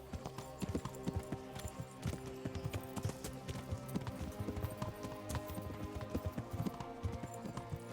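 Horse hooves clip-clopping in the video game Kingdom Come Deliverance, a steady rhythmic trot of close, distinct hoof strikes that runs throughout under light background sound.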